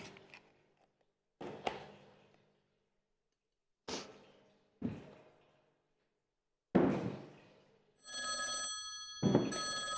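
Telephone rings out on a cooking show set in separate bursts, a few short rings then a longer electronic ring near the end, fairly loud with no talk over it.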